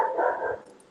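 A dog barks once indoors, a single fairly close bark that fades quickly, then near quiet.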